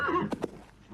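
A horse whinnies close by in a short burst with a couple of sharp vocal peaks, then the sound fades into quiet background.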